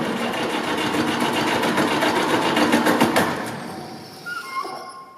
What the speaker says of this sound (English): you probably can't hear me over the roar of the engine